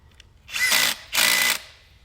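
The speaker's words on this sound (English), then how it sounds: "I guess maybe you start this with a drill and then..." Two bursts of a power drill whirring, each about half a second, close and loud with a short pause between them.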